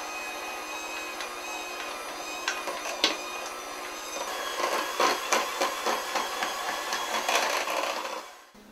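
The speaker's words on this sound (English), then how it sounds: "we're just going to mix it on a very low speed to get it all blended" Electric mixer blending a potato pie mixture on low speed, a steady whirring drone with rattling, clattering knocks against the bowl that grow busier toward the end before cutting off, with no talking.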